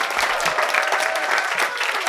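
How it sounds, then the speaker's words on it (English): Audience applause at the close of a jazz dance history talk, a full steady round of clapping from a room of people, fairly loud and continuous. "Please give a round of applause for Miss LaTasha Barnes."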